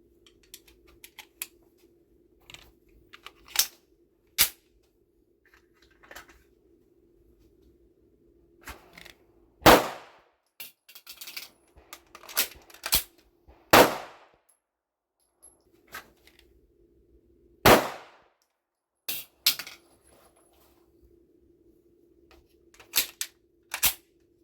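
Gunshots from a Canik TTI Combat pistol ring out as sharp, loud, isolated cracks spaced several seconds apart, a few coming in quick pairs, with quiet handling noise and a low steady hum between shots.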